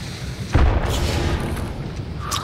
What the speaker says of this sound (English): Frag bomb, frag bomb coming.